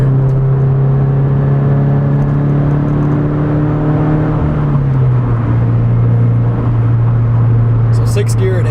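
A Subaru BRZ with an aftermarket exhaust drones steadily as it runs through the gears, the engine note dropping in pitch midway as it shifts. Someone talks over the constant, close engine sound.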